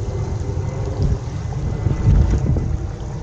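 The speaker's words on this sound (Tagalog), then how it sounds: "ang lakas ng hangin" Strong wind buffets the microphone with a constant low roar and gusty rumbles, loud throughout with no voices, while fishing at Baseco in Manila.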